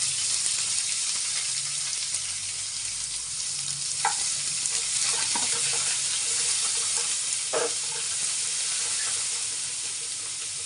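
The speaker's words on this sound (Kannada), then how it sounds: "ಈಗ ಈರುಳ್ಳಿ ಹಾಕ್ತಾ ಇದ್ದೀನಿ, ಕರ್ಬೇವಿನ ಸೊಪ್ಪು" Onions and curry leaves fry in a pan, a loud close sizzle and hiss that runs throughout, broken by a few sharp stirring clicks and scrapes.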